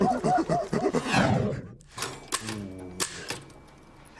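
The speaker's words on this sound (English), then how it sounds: "this is the most ancient, old and crusty typewriter in the world" Rapid mechanical clacks and a carriage clunk from an ancient, old and crusty typewriter being typed on, close and clear, following a brief stretch of talk.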